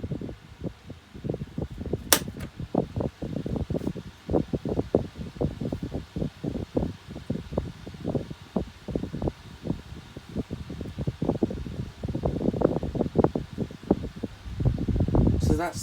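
A 2003 Micromark 8-inch desk fan runs on its lowest speed setting, giving a steady, soft motor whir and airflow under almost continuous close-up talking.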